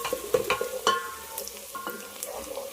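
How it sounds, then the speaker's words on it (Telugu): Onions and green chilies frying in oil in a pan, a soft continuous sizzle broken by a few sharp stirring clinks and scrapes, close but fairly quiet, with no talking. "ఉల్లిపాయ అనేది మనకి బాగా బ్రౌన్ కలర్లో వచ్చేంత వరకు ఫ్రై చేసేసుకోవాలి"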